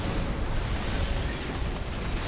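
A grenade cannon blast in Armored Core 6, a mech combat game, gives a dense, loud, rumbling explosion that fills the whole short stretch without pause.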